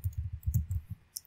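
A computer keyboard is typed on to enter a build command, with a quick, close burst of soft clicking keystrokes and one lighter tap at the end.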